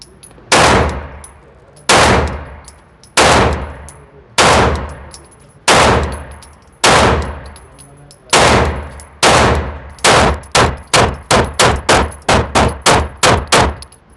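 Canik pistol fitted with a Legion Precision Weapons Systems compensator, fired outdoors: loud, sharp gunshots, about seven evenly spaced shots, then a rapid string of roughly ten quicker ones, each with a short ringing decay.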